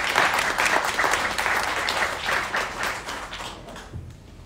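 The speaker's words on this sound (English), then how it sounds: "Give her a big applause." Audience applause at a Japanese knotweed symposium for a speaker after her talk, a dense burst of clapping that fades away toward the end with nothing else over it.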